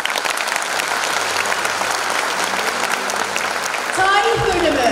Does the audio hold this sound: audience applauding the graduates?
yes